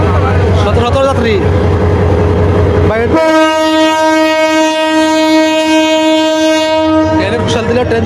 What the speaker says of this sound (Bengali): এই যে ট্রেন ছেড়ে দিল